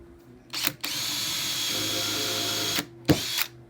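Close power drill driving wood screws into a garden picnic table, one sustained whir of about two seconds framed by short trigger bursts.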